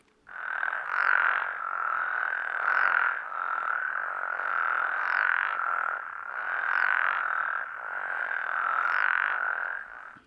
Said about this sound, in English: this is a spectrogram of what the frog chorusing looks like when it's in a very healthy pattern